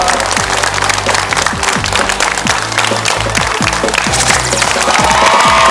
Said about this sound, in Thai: ขอเสียงปรบมือให้พวกเขาอีกครั้งครับ